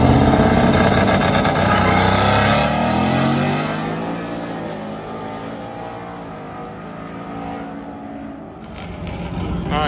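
A Ford Raptor truck and an F-150 launch in a drag race at a drift and drag event, their engines roaring loud and close before fading into the distance as they pull away.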